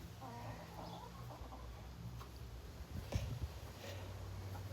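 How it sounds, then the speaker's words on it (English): Faint clucking drifts from chickens on a small farm where ducks are also kept, soft and distant beneath a constant low background hum. "There's duck and chicken here."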